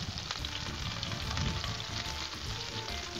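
Shrimp sizzle steadily on a hot Blackstone griddle, a dense, close crackling fry that carries on without a break and with no talking.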